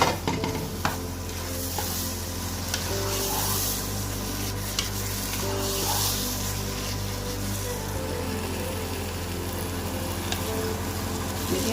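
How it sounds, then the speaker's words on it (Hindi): Khoya and grated carrot halwa frying in a pan as it is stirred, a steady close sizzle with scraping stirring strokes and a constant low hum behind it, with no talking. "हमने अपना खोया भी अच्छे से ब्राउन कर लिया है, फ्राई कर लिया"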